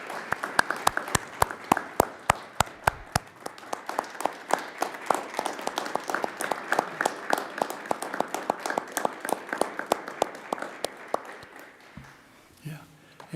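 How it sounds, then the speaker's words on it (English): An audience at a school board meeting claps in a round of applause, scattered sharp claps thinning out toward the end before a voice begins. "May you all join me in giving a round of applause."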